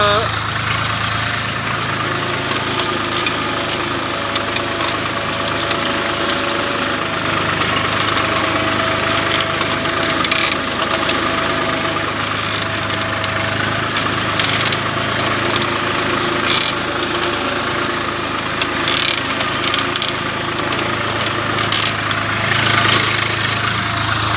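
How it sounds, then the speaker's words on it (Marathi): A tractor engine works steadily through deep ploughing of a 1.5-acre field to clear lavhala grass, a continuous loud mechanical drone with a low rumble that holds unbroken from start to finish. "आवाज बघू शकता मित्रांनो ट्रॅक्टरचा एकदम।"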